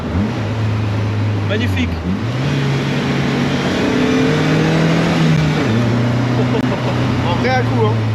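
A Secma Fun Buggy engine revs high and drones loudly, with several abrupt, jerky gear shifts stepping the pitch up and down. A voice speaks briefly over the engine noise.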